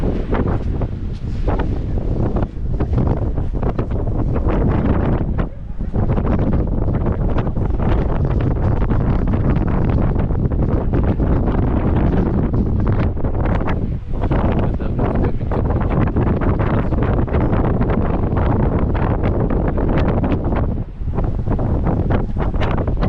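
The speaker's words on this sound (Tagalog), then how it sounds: "Lakas ng hangin eh." Strong wind gusts roar continuously across the microphone at a coastal lookout on Oahu, Hawaii, loud and buffeting throughout with brief lulls, no speech.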